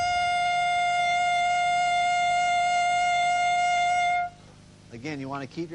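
A steady, bright sustained saxophone tone on a high D holds for about four seconds, then cuts off, followed by a brief burst of speech.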